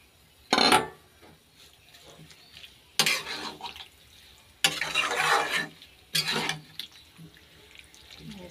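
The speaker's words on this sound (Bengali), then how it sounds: "এখন এখানে ধনেপাতা দিয়ে দেবো, একটু মাখা মাখা করে করলাম।" Curry being stirred in a pan after fresh coriander leaves are added, with four loud scraping stirs spread across a quiet background.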